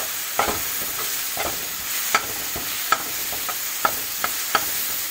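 Onion-tomato masala for boiled egg curry sizzles steadily in a pan, with a bright continuous frying hiss broken by sharp, irregular scrapes and clicks of a spoon stirring the mixture.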